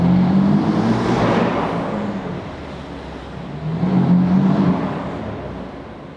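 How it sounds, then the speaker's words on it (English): A BMW M car fitted with a Turner Motorsports cold air intake echoes through a parking garage, with two rising and falling engine swells as it revs up and eases off, loud and near with no talk. "A little bit of a parking garage noise for you"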